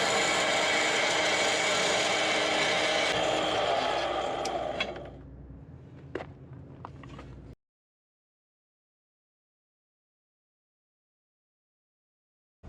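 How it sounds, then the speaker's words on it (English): A power tool cuts apart welded metal pieces of a car trailer with a harsh, continuous grinding rasp. The noise tapers off and trails into a few faint scrapes before cutting out into silence. "Now that the pieces are welded together fully, I'm going to cut them apart again."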